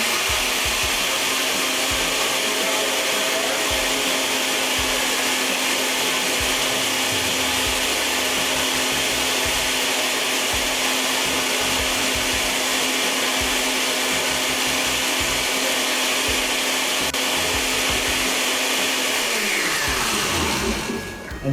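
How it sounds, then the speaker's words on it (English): A basic countertop blender whirs steadily, loud and continuous, as it blends chopped wheatgrass, running for about twenty seconds before the motor winds down at the end. "just turn your blender on"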